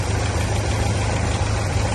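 A car engine idles roughly with a Taiwanese motor misfiring, a loud, steady low rumble with uneven pulsing and no speech over it.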